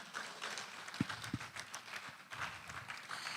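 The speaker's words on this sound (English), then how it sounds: "You are clapping like you did not gain anything from today." Scattered, faint applause from a business summit audience, light uneven clapping with a couple of louder individual claps, heard at a low level against room noise.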